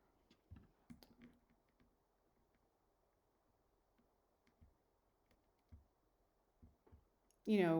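A computer mouse clicks a few times as sparse, soft single clicks spread over several seconds, close but quiet, ending in a short louder burst of noise.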